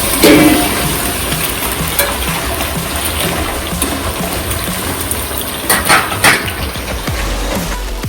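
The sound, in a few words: capsicum and tomatoes sautéing in a pan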